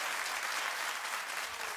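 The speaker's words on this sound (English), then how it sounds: "Never feel like you can't clap here, never." Studio audience applause on a daytime talk show, a dense, steady wash of many hands clapping throughout with no voices on top.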